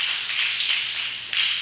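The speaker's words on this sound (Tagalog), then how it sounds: "Pumalakpak muna kasi natutulog kayo." Church congregation clapping hands during a Sunday sermon, a dense, steady patter of many hands with a few louder bursts, heard without any talking over it.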